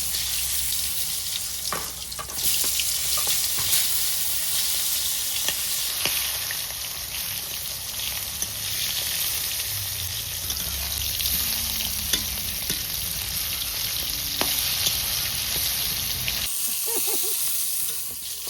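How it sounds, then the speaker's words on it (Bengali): Pointed gourd (potol) slices fry in hot oil in a kadai with a steady, dense sizzle and occasional stirring that runs for about sixteen seconds before cutting off abruptly. "তেল গরম হয়ে গেছে, এবার আমি পটলগুলো সব ভেজে নেব"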